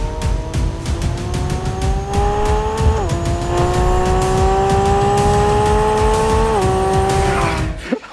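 A Lamborghini Revuelto accelerates hard, its loud engine note climbing steadily through the revs with two clear upshifts, each a sudden pitch drop before climbing again, ending abruptly.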